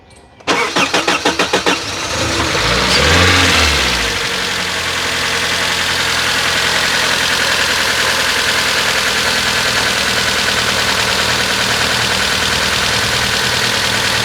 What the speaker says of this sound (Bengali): গাড়ি চললে এই সাউন্ডটুকু পাওয়া যাবে না, যেহেতু গাড়ি বসা অবস্থায় ইঞ্জিনের সাউন্ড